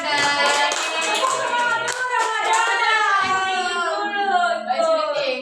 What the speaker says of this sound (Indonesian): beri tepuk tangan untuk Ramadan.